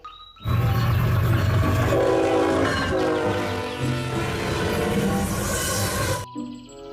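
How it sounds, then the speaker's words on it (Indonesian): A toy high-speed train plays an electronic sound effect: loud, busy rail noise with horn-like tones and clattering that runs continuously for about six seconds, then stops abruptly. "Wehehe, ini kereta cepat."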